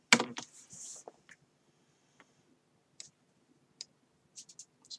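Mouse clicks at a computer while working in Flash, a few sparse, crisp, quiet clicks scattered over a few seconds, with a brief louder rustle at the start and near silence between.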